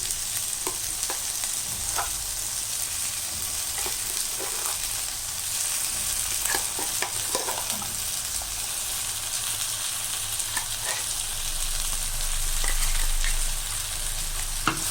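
Steady sizzle of a ground spice paste sautéing in a pan for cowpea and eggplant kulambu, with scraping and stirring sounds throughout, fairly close, no talking.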